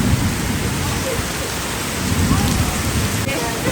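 Heavy rain pours down at night, a dense, steady roar of drops drumming on surfaces with a faint rumble beneath, continuous and close throughout.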